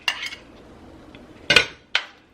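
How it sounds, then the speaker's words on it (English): Crawfish and fat are dumped into a metal cooking pot with a clatter of utensil on metal, then two more sharp clinks of spoon against pot, close and distinct in a quiet kitchen. "I'm gonna go ahead and dump the crawfish and all that fat in there"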